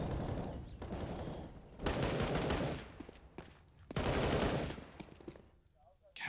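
Pistol fire during a CS:GO match on the Inferno map comes in loud bursts of rapid shots separated by short lulls, with scattered single cracks in between.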